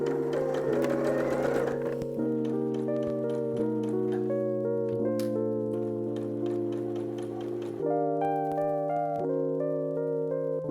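A domestic sewing machine stitches a spring wedding guest dress in a steady, fairly quiet run, its motor hum and needle ticking continuing for several seconds and shifting pitch a few times as the speed changes.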